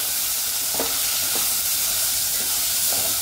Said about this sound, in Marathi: चवीनुसार मीठ आणि हे सगळं चांगलं परतून घ्यायचं असं